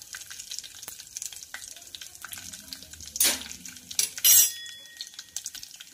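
Water poured into a hot pan of fried dry fruits, cardamom and fennel, a quiet sizzling background broken by two loud hissing bursts as the water hits the hot pan.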